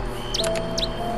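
Young chicks of a long-legged bird give short, high chirps in two brief bursts, close by over a steady low hum of background noise.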